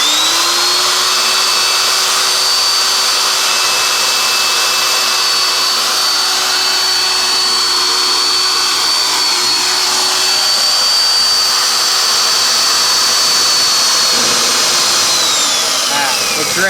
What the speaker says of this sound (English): what he's going to do is drill right in the center of that rivet